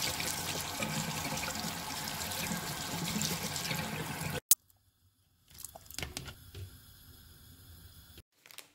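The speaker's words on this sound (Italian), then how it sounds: "Adesso vado a lavarle e le metto a bollire nell'acqua." Kitchen tap water pours steadily over broccoli, cauliflower and carrots being washed, then cuts off abruptly halfway through. Quieter clatter and handling noises follow.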